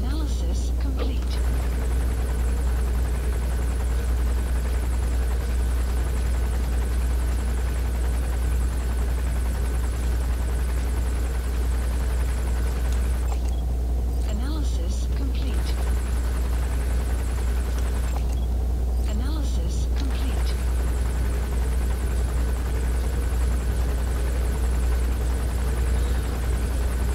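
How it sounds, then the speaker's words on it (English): Helicopter rotors in the video game Metal Gear Solid V, a loud, constant low thrum and buzz running throughout under occasional game sounds. "we're just under the helicopter rotors, that's all."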